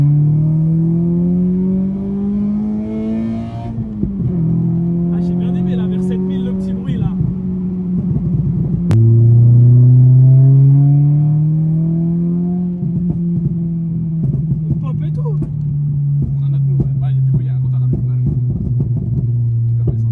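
A Subaru BRZ stage 2 Rocket Bunny accelerating hard, the engine note rising in pitch through the gears as a loud, close drone with crackles, while people talk over it inside the car.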